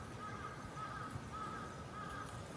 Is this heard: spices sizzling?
no